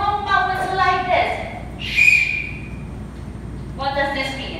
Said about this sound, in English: when I blow my whistle like this